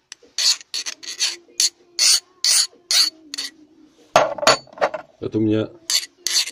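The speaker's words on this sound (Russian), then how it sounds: "спрашивали, можно ли так вот напильником пошаркать. По индивидуальной просьбе шаркаю." A metal file rasps in short, repeated scraping strokes, each a bright, gritty burst separated by brief gaps, with a few words spoken between strokes.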